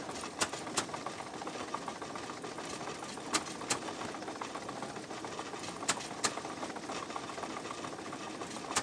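An old engine driving a corn mill runs steadily and loudly, with a dense mechanical clatter and sharp periodic knocks punctuating the continuous drone.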